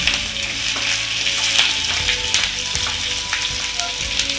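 Chopped onion frying in oil with cinnamon, cloves and black pepper for an egg potato paratha filling: a loud, dense, continuous sizzle with faint stirring taps and no voices.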